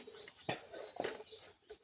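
Birds singing outdoors on a Marinduque island vacation, with a few short chirps and coo-like calls close by in a brief, lightly noisy setting and no one speaking.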